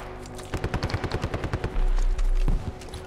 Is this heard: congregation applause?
no